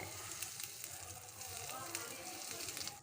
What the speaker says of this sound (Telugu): నూనె పెట్టినాను ఆవాలు వేస్తున్నాను పోపుకు పిట్పట్లాడుతూ ఉంది